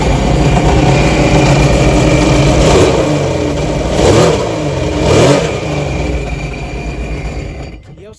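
A 2021 Sea-Doo Fish Pro jet ski engine runs loud and close, idling roughly and then surging through three distinct revs before cutting off abruptly at the end.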